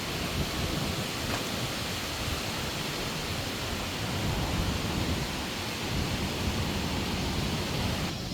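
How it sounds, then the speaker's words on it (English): Heavy rain pours steadily on the Philippine coast, a dense, loud, continuous hiss that stays unbroken throughout. "May have to run back in because we're just getting huge waves of rain"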